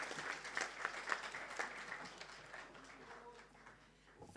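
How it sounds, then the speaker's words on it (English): Applause from a lecture audience honouring a chief resident advisor at a college event, a modest patter of clapping hands that thins and fades away toward the end. "I must give a round of applause to Sir Holt, our Chief Resident Advisor, the man behind it all."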